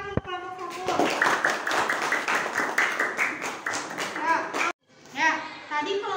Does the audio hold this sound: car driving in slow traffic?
no